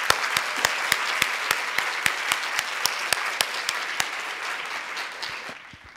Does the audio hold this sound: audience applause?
yes